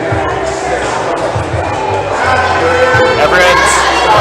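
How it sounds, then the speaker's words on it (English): Coaches, teammates and fellow competitors cheer on a climber at a provincial top-rope climbing competition, a loud, steady crowd roar with shouts throughout, close and dense, voices blending together. "Coaches and teammates and his fellow competitors cheering him on."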